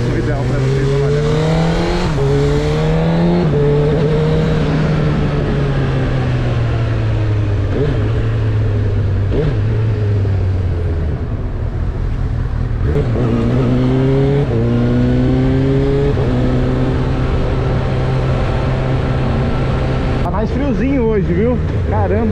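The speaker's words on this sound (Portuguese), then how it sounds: "Todo mundo fica olhando, é carro, é moto." Cars and motorcycles pass on a busy São Paulo street, engines rising and falling steadily and close by across the whole stretch, with one brief swell of acceleration near the end.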